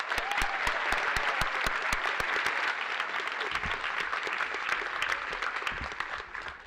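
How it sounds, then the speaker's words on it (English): Steady, enthusiastic applause from a large crowd at a community scholarship night, continuous clapping throughout without pause. "Give yourselves a big round of applause"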